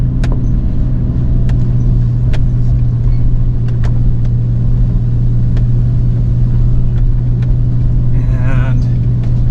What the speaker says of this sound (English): my truck is struggling, so I might need to put it 4 low to get different gearings